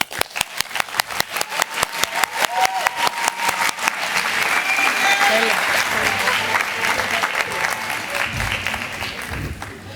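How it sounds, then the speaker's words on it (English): A youth conference audience applauds a speaker, starting with a few sharp, evenly spaced claps that swell into a dense, sustained round of applause from a large crowd. "Let's all applaud for Kyriaki"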